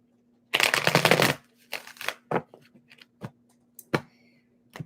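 Tarot cards get a quick hand shuffle, a loud close riffle burst followed by a second shorter one and a scatter of crisp taps and flicks as the deck is squared.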